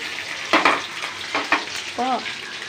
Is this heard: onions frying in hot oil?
yes